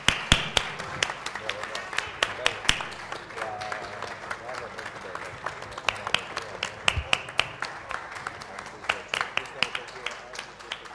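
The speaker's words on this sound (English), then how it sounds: "Can we give a big round of applause to our panelists," An audience at a sustainability arts panel applauds the panelists with sustained, sparse-to-steady clapping, sharp individual claps standing out close by, with faint voices murmuring underneath.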